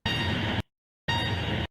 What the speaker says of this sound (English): The opening of the original song has a plane taking off with these pitches coming in at the start.